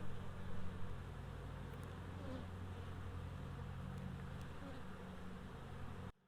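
Honey bees buzz steadily around a nucleus hive with a queen cell, a dense, continuous close-up hum with slight swells, cutting off abruptly at the end.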